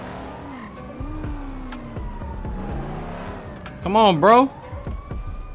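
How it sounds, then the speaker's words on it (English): A video game ambulance siren wails in rising and falling sweeps over a street scene with a car engine and traffic noise, while players talk over it and a brief horn-like burst cuts through. "Man, he don't hear the ambulance coming."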